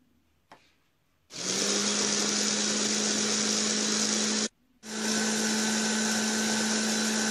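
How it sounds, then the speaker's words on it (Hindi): An electric mixer grinder blends tomato sauce ingredients with oil and salt for a homemade vegetarian pizza, running as a loud steady whir with a low motor hum, briefly stopping and then starting again. "अब हम सारे सामान को एक मिक्सर में ग्राइंड कर देंगे।"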